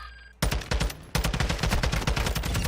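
Rapid automatic gunfire in a video game set at an airport, with dense, loud bursts of shots close by, broken by one short gap, and no talking.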